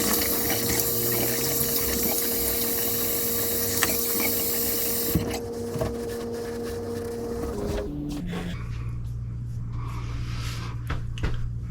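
Tap water runs steadily for several seconds as someone rinses off after a straight razor shave, with a pump-like hum underneath before it cuts off and leaves a quieter room.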